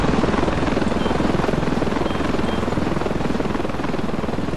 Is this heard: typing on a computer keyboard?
no